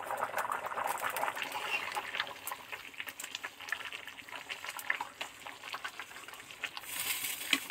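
Echor kalia, a Bengali jackfruit and potato curry, bubbles in a pot with a steady wet crackle and soft popping, moderately close and continuous with no talking.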